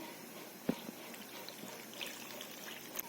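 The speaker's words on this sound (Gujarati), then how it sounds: "બે ગ્લાસ જેટલું પાણી નાખીશું" Water pours into a pan of pineapple pieces on a gas stove, a quiet close trickle and splash with a few brief clinks.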